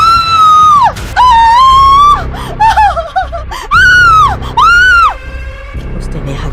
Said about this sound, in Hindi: उसने अपना मुंह फाड़ा और जोर से चिल्लाया।